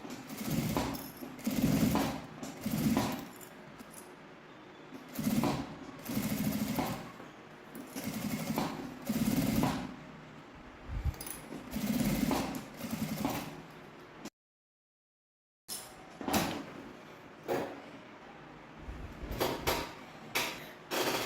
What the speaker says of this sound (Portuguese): aqui a gente vai passar a costura com um pé de máquina em toda a volta